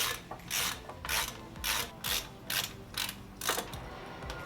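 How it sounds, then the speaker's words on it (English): A ratchet tightening brake caliper bolts during a brake pad and rotor install, giving a series of about seven bursts of rapid clicking, close and fairly loud, evenly paced with short pauses between. "once we get the bolts in there, we go ahead and tighten down the bolts."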